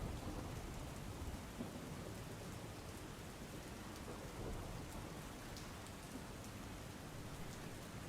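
Steady, heavy monsoon rain in Gadchiroli, Maharashtra pours down continuously, with a dense wash of drops and a low rumble underneath, loud and close throughout.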